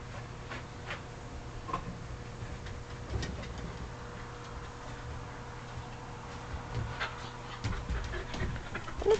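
A Shetland sheepdog pants softly and steadily nearby in a newly fenced yard, with faint ticking, light scuffs and a low hum in a quiet outdoor setting.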